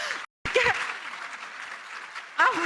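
Audience applause in a seminar hall, a brisk patter of clapping beginning after a brief silence and continuing while someone speaks over it.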